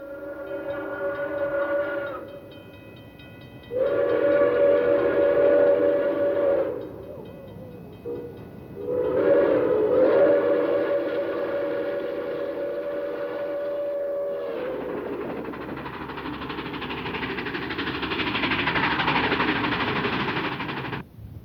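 Long, loud whistle blasts sound in a repeated pattern, then an Erie Berkshire steam locomotive hauling a local freight train rumbles and hisses steadily close by.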